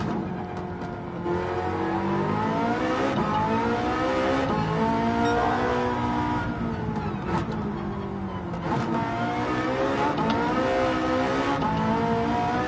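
A Porsche 918 hypercar engine in Gran Turismo 7 revs and drones continuously on track, loud and close, its pitch climbing and falling repeatedly through gear changes and acceleration.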